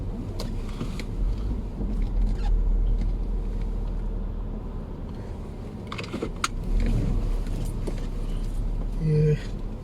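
A car pulls out past a petrol pump in Tabuk City, Saudi Arabia, its engine a low steady rumble with a few clicks and rattles, while someone talks over it.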